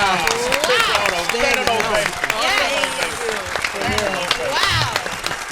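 A crowd applauds and cheers a fashion model on a talk show, with dense clapping continuing under loud overlapping voices and whoops throughout.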